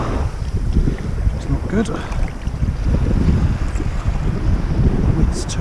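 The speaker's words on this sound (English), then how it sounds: "The wind's turned around, so it's coming in from the seaside." Strong onshore wind blowing in from the sea buffets the microphone at a rough seaside spot, a steady loud rumble throughout with a person speaking briefly over it.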